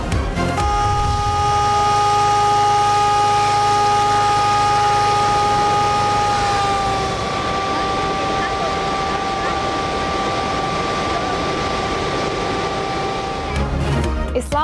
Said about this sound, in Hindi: अतराफ की आबादी को सायरन बजाकर अलर्ट किया गया।